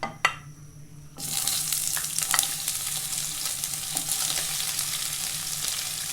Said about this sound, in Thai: ผัดตัวขิงกับ หอมใหญ่ โปรตีนเกษตรก่อน